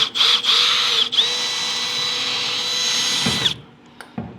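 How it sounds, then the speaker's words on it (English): A power drill bores through a pop rivet on an aluminum boat hull, giving a close, loud high-pitched whine with a few brief stutters before it winds down and stops, followed by small clicks. "I'm just going to drill through the middle of it, and I'm going to kind of open up that hole"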